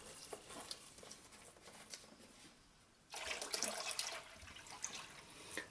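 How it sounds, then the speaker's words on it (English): Engine coolant from a Honda Accord radiator (2003-2007) pouring out into a container, a faint, steady splashing trickle that swells into a fuller, louder gush halfway through. "And we'll just dump this coolant."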